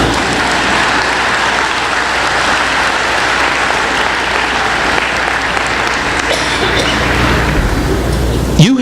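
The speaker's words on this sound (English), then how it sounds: "You can clap." Graduation commencement audience clapping loudly and continuously, a dense, even roar of many hands that holds steady for the whole stretch before cutting off abruptly at the end.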